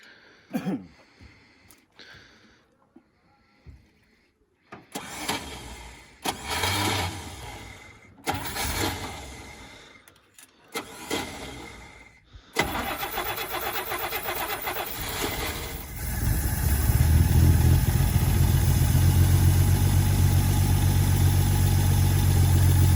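A 1962 Rambler engine fed gasoline from a one-gallon jug cranks in short bursts, sputters, then catches and runs at a steady, loud idle through the second half.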